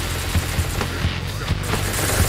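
Gunfire in a Minecraft SCP game, with rapid automatic bursts of repeated shots in a fast irregular rhythm, loud and close.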